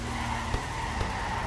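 Car drifting on a mountain circuit in the video game Torque Drift, a continuous loud tire skid and engine roar with two brief bumps, up close and with no talk.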